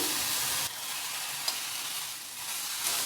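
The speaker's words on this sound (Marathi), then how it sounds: "दोडक्याच्या शिरा टाकून घेऊया दोन मिनिट शिरा परतून घेऊया" Ridge gourd peels sauté with roasted peanuts and green chilli in a hot kadhai, giving a steady close sizzle with stirring scrapes and a brief knock partway through, with no voices.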